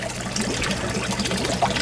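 Water from a tilapia tank trickles and pours out through a net filter, a steady close splashing stream with no voices.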